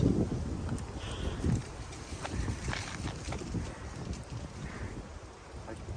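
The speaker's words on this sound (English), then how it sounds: "when it's this cold and windy out" Cold wind gusting and buffeting the microphone outdoors, a continuous rough rumble with occasional louder bursts, no voices.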